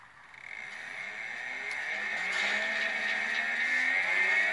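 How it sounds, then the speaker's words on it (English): A DIY brushless DC traction motor mounted in a car wheel runs in static operation, giving a steady whirring hum that rises slightly in pitch and loudness over several seconds, close and alone. "I'm going to have the motor turned on now so you can see how it rotates."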